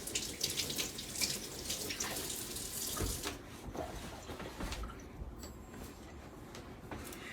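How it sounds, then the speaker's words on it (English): Tap water runs steadily into a kitchen sink while hands are rinsed during baking, a continuous close splashing stream throughout with no talk. "Oh, let me rinse my hands."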